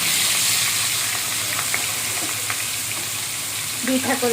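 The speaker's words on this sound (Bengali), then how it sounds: "দুইটা করে ভেজে নিচ্ছি," Loud, continuous sizzle of fish frying two at a time in hot oil, close up, with a few light clinks of a utensil near the end.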